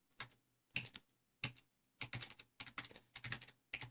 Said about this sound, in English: And now I'm going to press some keys on my keyboard randomly.